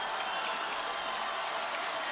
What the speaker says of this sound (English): Rams fans on their feet cheering them on.